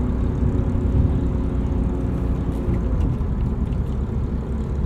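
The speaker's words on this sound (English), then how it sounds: "This S52 has kind of a rough and tumble sound to it." A 1999 BMW E36 M3 with its S52 inline-six is driven, a loud steady low engine drone and road rumble from inside the cabin, holding an even pitch throughout.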